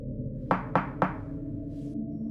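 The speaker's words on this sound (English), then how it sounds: "Another knock, 3 slow taps, from the wall beside his bed." Three slow, evenly spaced knocks sound on a wall beside a bed at night, each a dull, resonant thunk followed by quiet room tone.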